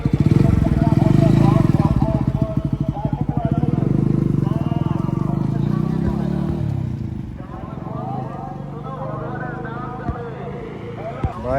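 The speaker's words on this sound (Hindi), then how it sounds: "ये गियर है फुल थ्रॉटल दिया।" After a water crossing, a motorcycle with a misfiring problem revs hard at full throttle, its loud, close engine throbbing rapidly and then easing to a rougher idle, with people talking over it.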